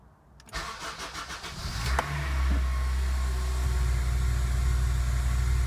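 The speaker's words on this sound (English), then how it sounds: "Anybody have a delay like this when starting the car?" A 2005 Acura RSX Type-S engine cranks after a short pause, catches with a sharp start, then settles into a steady, loud, close idle with no one speaking.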